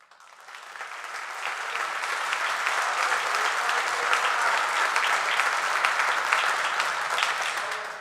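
Sustained audience applause fills a college commencement ceremony honoring Bachelor of Arts recipients, swelling in over the first second and holding as a dense, steady wash of many hands clapping.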